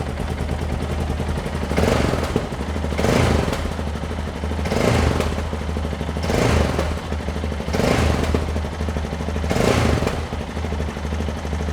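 A Yamaha Ténéré 660z motorcycle engine idles close by with a steady low thrum. Its revs rise in a series of regular throttle blips, about one every one and a half seconds, each a short surge of louder roar over the idle.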